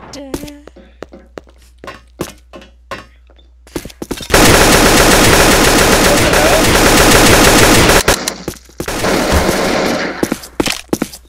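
A prison break video game plays sustained automatic gunfire for about four seconds, a loud continuous rattle. Brief scattered thuds come before it, and another burst of shooting follows with a voice talking over it.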